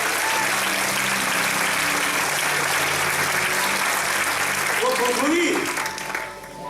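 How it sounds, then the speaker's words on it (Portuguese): A church congregation claps steadily for several seconds, a dense wash of applause filling the room, with a voice briefly heard near the end as the clapping tapers off. "pode aplaudir ao Senhor, porque Ele merece"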